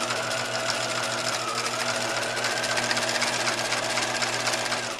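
A sewing machine runs steadily, stitching a long seam down a pajama pant leg, with a continuous close, even motor whir and rapid needle rhythm throughout and no talking.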